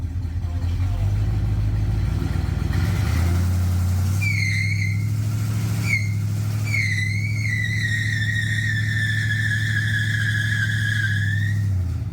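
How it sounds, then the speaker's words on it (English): Car tires squealing loudly inside a workshop garage, with repeated sharp high screeches that grow into one long sustained squeal over a steady low engine idle; voices talk quietly nearby. "those are some loud tires"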